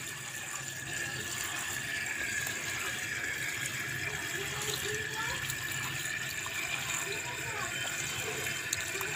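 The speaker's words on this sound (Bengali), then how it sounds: "এইভাবে খুব ভালো করে ধুয়ে নিতে হবে, শাকের গায়ে একটা বালি বালি ভাব থাকে" Betho greens being washed in water, a continuous steady splashing and rushing wash with no pauses.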